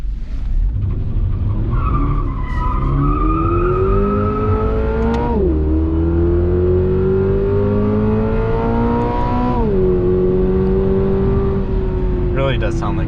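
A 2022 Subaru BRZ engine revs and climbs in pitch through the gears while driving, loud and close, with a tire squeal and people talking over the drone.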